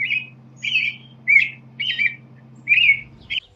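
Robin, an orange-breasted songbird, calling in a backyard with about six short clear chirping phrases spaced evenly apart, near and fairly loud over a faint low hum.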